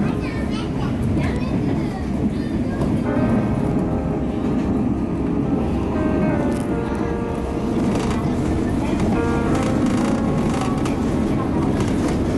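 A train rumbles steadily along embankment tracks on Japan's San'in Main Line between Tottori and Kinosaki Onsen, a continuous low roar with some higher rattling tones, loud and close throughout.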